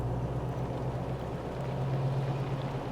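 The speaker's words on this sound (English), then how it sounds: "I don't know why the engine sounds just came back on." Steady engine drone from the Wasteland 3 video game, a continuous low hum with a rumbling, watery texture and no talk over it.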